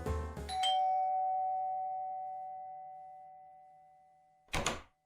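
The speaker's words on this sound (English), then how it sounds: "I'd hardly pressed the bell on the door when it opened." A doorbell in a radio drama gives one clear, close chime that rings out and slowly decays over several seconds, followed by a short clatter of the door opening.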